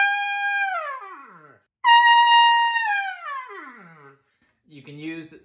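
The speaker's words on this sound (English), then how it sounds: "Hold out a note and just go down." Trumpet falls: a held bright note slides downward in pitch and fades, then a second louder held note drops the same way, followed by a short rough brassy sound.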